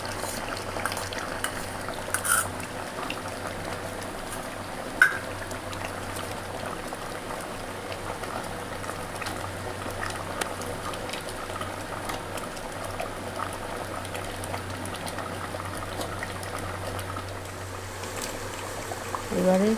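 Mutton curry with water-ground spice paste simmers in a pot, a steady low bubbling and sizzle running throughout with a few faint clinks, at moderate distance.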